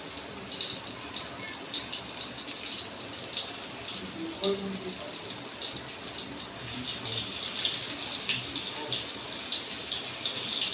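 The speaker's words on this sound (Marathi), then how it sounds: "आता आपण हे फ्राय करूया हे बघा तेल आपलं चांगलं तापलेलं आहे" Black creek fish coated in gram flour and semolina fry in hot oil, giving a steady, close sizzling hiss with light crackles throughout.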